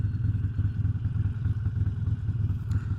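A Bandit streetfighter motorcycle pulls away from a stop, its engine a loud, steady low throb with rhythmic pulsing, close by and with no talk.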